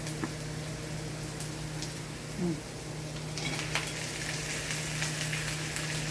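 Garlic, onion and ginger fry in a pan with pieces of fried tuna (tulingan) for a coconut-milk stew, a constant close hissing sizzle with a few light clinks and a brighter burst near the end.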